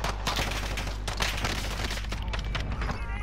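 Gunfire rattles in a multiplayer shooter video game, a dense stretch of rapid shots and bursts, loud and continuous throughout.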